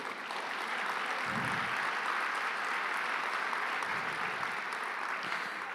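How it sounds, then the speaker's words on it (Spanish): A church congregation gives a sustained round of applause, steady and broad like a crowd filling a worship hall, with no voices standing out over the clapping. "¿Cuánto le dan un fuerte aplauso al Señor?"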